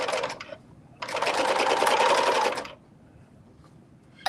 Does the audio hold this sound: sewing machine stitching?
yes